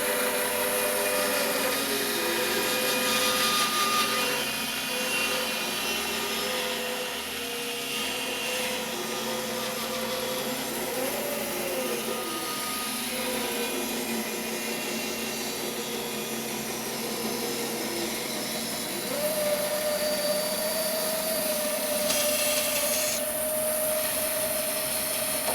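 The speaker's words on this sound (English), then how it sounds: "I was watching the blade cut down my slot and it was staying dead center in that slot" A saw fitted with a micro kerf blade resaws a wide board, giving a long, steady whirring drone that holds evenly, then rises in pitch near the end as the cut continues.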